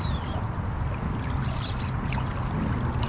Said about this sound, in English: I've just been standing here kind of in silence, listening to the water